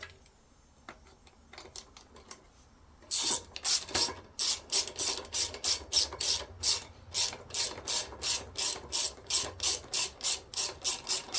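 A ratchet tightens the carburetor bolts on a 21-inch YardForce push mower, starting with a few scattered clicks, then a long run of rapid, rhythmic ratcheting strokes close up.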